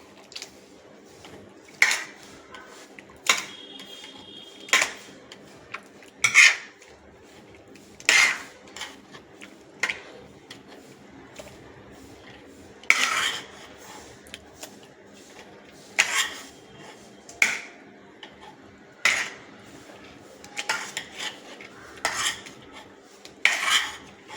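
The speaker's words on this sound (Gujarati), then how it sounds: "ભાજીનું ઓલું જે દબાવવાનું આવે એનાથી આપણે બધું દબાવી નાખવાનું છે" Suran (elephant foot yam) bhaji being pressed down with a metal masher in a pot, giving a series of short, irregular clanks and scrapes at close range with no talk.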